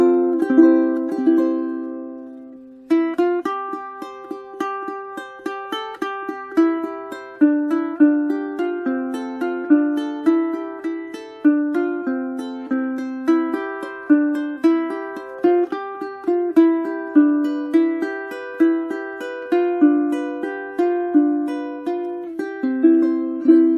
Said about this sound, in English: This is tuned in the typical ukulele re-entrant.